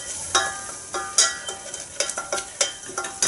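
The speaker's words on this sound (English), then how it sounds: "Give that a stir." A spoon stirs flour into a runny sauce in a pan for fish pie, scraping in a steady rhythm of close, bright strokes over a soft sizzle.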